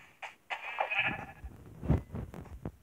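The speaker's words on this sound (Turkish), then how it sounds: "Aa, koyun buldum." A sheep bleats in the video game Minecraft, several short wavering bleats close and fairly loud over about three seconds, with no talking.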